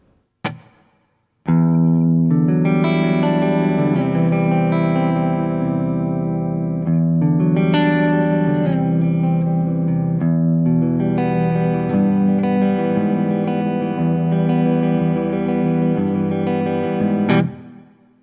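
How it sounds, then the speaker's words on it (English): Sustained electric guitar chords through the reverb of a TC Electronic Plethora X5 pedal, ringing out with a lush tail, each strum blooming and lingering in a spacious wash before the next. "Let's turn on some reverb."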